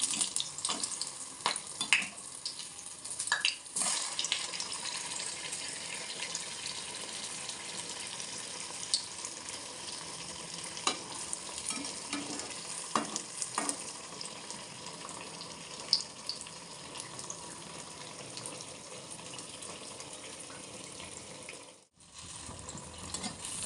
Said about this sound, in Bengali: এই দেখো এখন হচ্ছে, গরম গরম তেলে টকবক করে ফুটছে